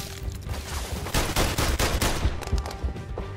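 Rapid bursts of gunfire in the VR shooter PlayStation VR Worlds, a dense crackling volley of shots that swells in the middle and trails off into scattered pops, close and fairly loud.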